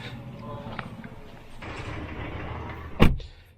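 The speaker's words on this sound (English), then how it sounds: "Solid door sound" The rear door of a 2025 BMW X5 xDrive50e M Sport shuts with a single solid, heavy thud near the end, following some low cabin rustle and handling noise.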